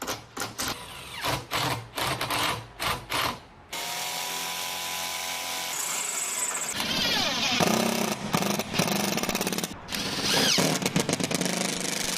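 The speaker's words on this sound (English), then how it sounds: "Blower" Leaf blower clearing debris during construction of an aluminum screen porch; after several short bursts it runs as a loud, steady, close drone for seconds, with rising and falling pitch as it is worked.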